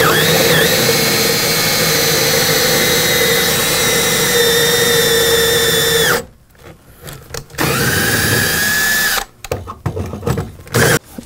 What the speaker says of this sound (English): All right, Adam, so I'm gonna drill this lock